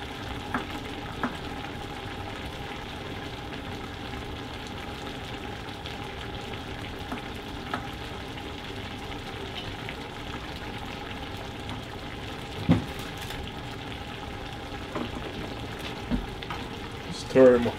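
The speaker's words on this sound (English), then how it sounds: "Stir them up a bit" Finely chopped ginger sizzles softly in a pan for a Jamaican-style lamb curry, a low steady frying hiss with scattered light clinks and scrapes as it is stirred.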